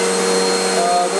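A household vacuum cleaner running with a steady, loud motor whine and airy rush, droning unchanged from start to end without any talking.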